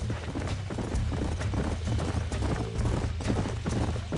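Horse hooves clip-clop steadily in the Red Dead Redemption video game, a continuous rhythmic trot of several horses close by with a low rumble beneath, no talk.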